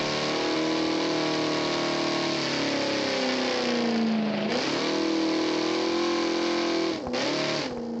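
A Jeep Trackhawk engine in the BeamNG.drive video game revs steadily, its pitch climbing, then dropping sharply twice before rising again, loud and continuous with no voices.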